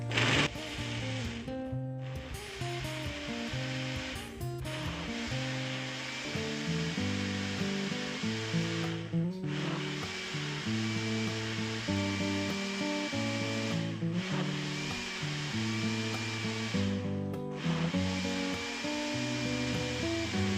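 A blender whirs steadily for about twenty seconds, blending calamansi with water, its pitch shifting as the blades work, broken by a few short pauses.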